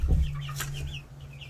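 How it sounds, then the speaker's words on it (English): Hens clucking inside a backyard homestead chicken coop, a few short close clucks and chirps over a low background hum. "Sorry, Levi, you cannot go in the chicken coop."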